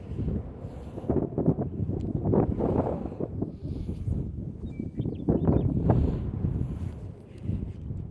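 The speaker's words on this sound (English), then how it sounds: "It is windy today, for sure." Gusty wind at Haystack Reservoir in Oregon on a chilly morning, rumbling and buffeting the microphone in uneven surges that rise and fall across the clip, with no voices heard.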